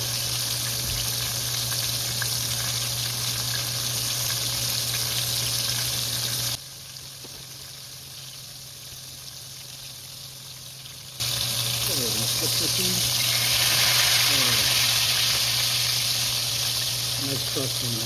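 Breaded chicken fried steak sizzling loudly in a pan of hot oil, a dense steady crackle close by that briefly drops away, then returns with extra popping and spatter.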